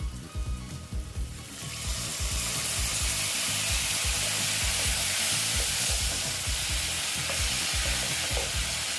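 Bitter gourd frying with spices in a pan as a little water is added: a sudden loud hiss that settles into a dense, steady sizzle with stirring clatter, close and continuous, with no talking.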